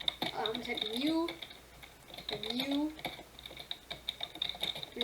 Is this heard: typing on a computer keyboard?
yes